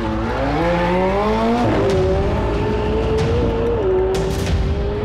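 McLaren 720S supercar driven hard at speed, its engine note climbing in steady harmonic sweeps with a shift and renewed pull, loud and close with no talk over it.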